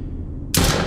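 A sudden loud burst of gunfire in a horror video game set in a hospital, cutting in sharply after near silence and ringing on through the end.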